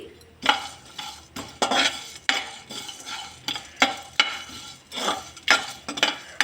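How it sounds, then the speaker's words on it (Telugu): Coriander seeds, cumin and dry coconut are dry-roasted in a pan while a spoon stirs and scrapes them. The scrapes come in rhythmic strokes with light clinks and a faint sizzle, quiet and close, with no talking. "ఒక స్పూను ధనియాలు కొద్దిగా జీలకర్ర అలాగే ఎండు కొబ్బరి ఇవన్నీ వేసి లైట్గా వేయించుకోవాలి"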